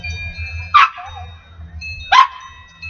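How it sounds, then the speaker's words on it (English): A dog barks twice, loud and close, in sharp bursts about a second and a half apart, over a steady low background hum. "That's my dog barking."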